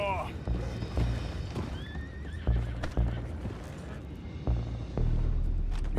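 Horses in the video game Red Dead Redemption 2 whinny and neigh amid clip-clopping hooves and heavy booming impacts, with voices speaking over the commotion.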